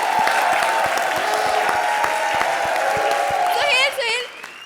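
Studio audience on a comedy show claps in a lively burst, crisp hand claps over a busy bed of voices and tones, with cheering and chatter rising near the end.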